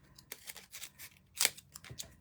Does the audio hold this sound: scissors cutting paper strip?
yes